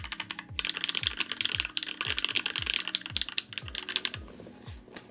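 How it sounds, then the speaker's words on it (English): Fast, steady typing on a mechanical keyboard fitted with 9009 dark keycaps, each keypress giving a crisp, close click with a deeper thock, sounding continuously. "I did say I was going to test out the keycaps"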